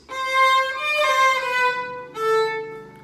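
A bowed string instrument plays a short phrase from a Brahms waltz, section A, with a quick grace-note turn of notes. The tone is sustained and clear, with two bowed strokes and a brief break between them.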